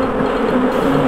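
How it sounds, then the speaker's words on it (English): Buzzing swarm of bees from the fantasy game Ravenloft: Stone Prophet, a steady, close insect drone holding level throughout with no talk over it. "I know what this means. Bees!"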